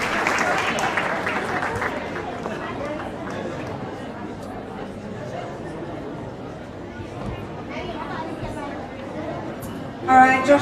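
Applause and crowd chatter at a banquet auction in a reception hall, a moderate clapping wash mixed with general hubbub, with a brief louder burst near the end.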